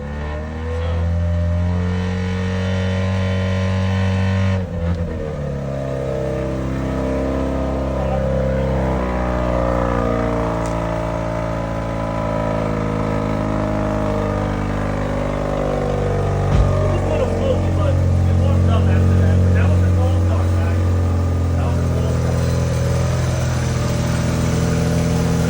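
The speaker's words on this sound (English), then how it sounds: "So it's stock, so the car revs really hard" A stock 1989 Mazda RX7 Turbo II, a freshly rebuilt rotary, revs hard and then settles, its engine note rising and falling steadily up close, loud and continuous throughout.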